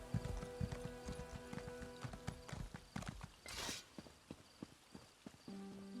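Horse hooves clip-clop at a steady walking rhythm in the Elder Scrolls Online game, near and clear, with sharp repeated strikes and a brief whooshing burst partway through.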